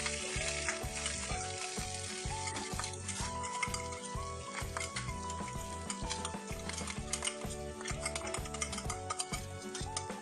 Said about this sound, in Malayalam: വെളുത്തുള്ളി ഒന്ന് വഴറ്റിയതിന് ശേഷം നമുക്കിതിലേക്ക് ചതച്ച് വെച്ചിട്ടുള്ള ചെറിയുള്ളിയും ഉണക്കമുളകും ചേർത്ത് കൊടുക്കാം.